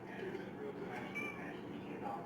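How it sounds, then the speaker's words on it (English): A cat meows in a home kitchen where mac and cheese is being made. The short, faint meows rise over quiet room noise. "Now the cat's talking and wants to be on the video as well."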